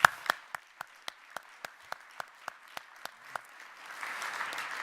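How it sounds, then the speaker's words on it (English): An audience at the 2014 Governors Economic Summit in Utah applauds its sponsors: a dozen separate, evenly spaced claps ring out in a large room, then give way to a soft, diffuse wash of scattered clapping. "And just one final round of applause to our sponsors."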